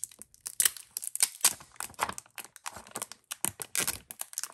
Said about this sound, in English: So let's go ahead and peel this plastic off.